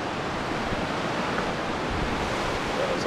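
Cayouche Creek rushing outdoors in a steady, full-bodied wash of water with a faint breath of wind, close and continuous, no voices.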